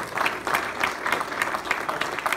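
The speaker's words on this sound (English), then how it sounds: "so we can give you guys a round of applause" An audience claps at a chapter meeting of the Coastal Conservation Association Georgia Skidaway chapter, with steady, moderate applause from a room of people that holds an even pace for the whole stretch.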